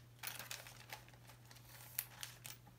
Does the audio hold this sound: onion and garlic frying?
no